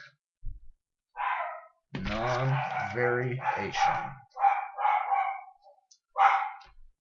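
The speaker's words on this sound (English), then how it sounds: "I just didn't want him to keep barking about it." A dog barks indoors in a few short bursts, interspersed with someone talking close to the microphone.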